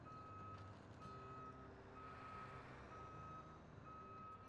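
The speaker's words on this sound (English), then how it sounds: "I will back this up right here" A truck in the RoadCraft video game gives steady, evenly spaced reversing beeps over a continuous engine rumble while backing up, with no talking.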